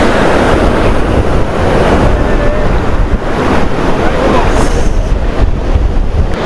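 Ocean waves crash and wash up on the sand at Chennai's Thiruvanmiyur Beach, a loud, continuous roar of surf mixed with heavy wind buffeting the microphone.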